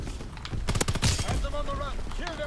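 Rapid burst of gunfire from Call of Duty WW2 with the Volkssturmgewehr rifle, a cluster of sharp close shots followed by fainter game effects, with a voice talking over the action.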